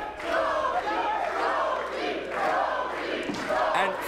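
A wrestling event crowd cheering and roaring in waves at a TLC match, a loud, sustained arena din with a brief swell near the end.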